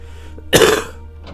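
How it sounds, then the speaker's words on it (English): A single harsh throat-clearing cough bringing up mucus, short and close, with a faint room hum around it. "I had to cough up a bit of my mucus back there."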